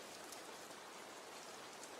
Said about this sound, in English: The sound from the collisions of raindrops onto the lake and the raindrops hitting the trees was pretty loud.